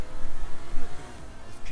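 Car engine revving while driving in the video game Saints Row 3, a loud continuous engine roar that swells and dips in quick surges.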